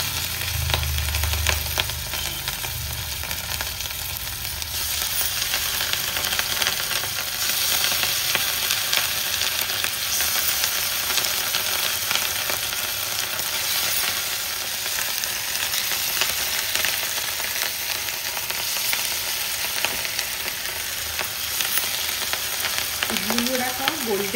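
Idli pieces deep-frying in hot oil for an Odia-style idli french fry, giving a loud, steady sizzle and bubbling that runs unbroken from start to finish, with a few faint clinks of utensils.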